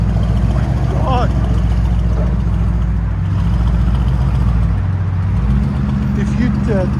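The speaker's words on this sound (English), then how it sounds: "Got a nice idle to it too." An 850hp Mercedes C63s AMG with a 4.0L bi-turbo V8 and straight pipes idles with a deep, steady, loud rumble, a brief blip near the end, while people talk over it.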